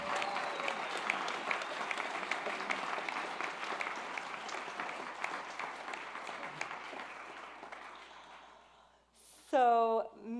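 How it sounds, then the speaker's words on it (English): A concert audience at a temple benefit event gives sustained, dense applause for a performer. The clapping fills most of the clip, then fades out before a voice starts speaking near the end. "please give her another round of applause"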